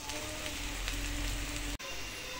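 Onion and garlic paste sizzles in a frying pan while cooking a spicy Bengali fish curry, a close, steady crackling hiss that cuts out abruptly for an instant before resuming.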